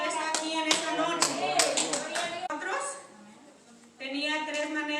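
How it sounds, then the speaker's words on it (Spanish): A church congregation claps in quick bursts while a voice speaks or sings over the applause, which fades out partway through. "Pueden tomar su lugar dándole un fuerte aplauso al Señor"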